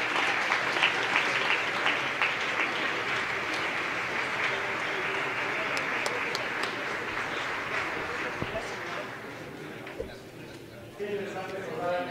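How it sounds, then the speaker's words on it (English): Sustained audience applause at a Lasallian education congress fills the hall for about ten seconds, steady and dense, then thins out near the end as a voice begins speaking. "So give them an applause"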